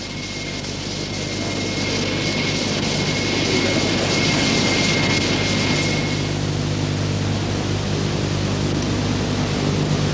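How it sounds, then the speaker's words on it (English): A jet of hot air blasts steadily to weld plastic material, a loud, broadband roaring hiss that holds constant for the full ten seconds, with a thin whine fading out midway. "the heat source can be a jet of hot air"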